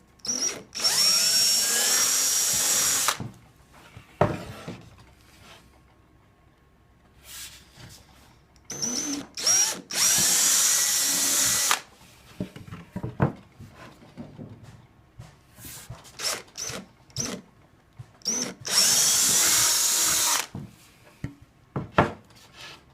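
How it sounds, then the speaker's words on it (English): Power drill boring into wood in three long bursts of high-speed whine, each lasting a few seconds, separated by quieter stretches of clicks and handling noise, close and loud. "Try to keep your drill straight."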